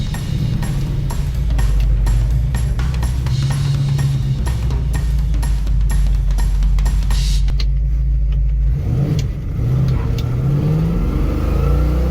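A classic car's engine revs loudly and close in a run of repeated throttle blips, then settles into a steady rumbling idle for the last few seconds.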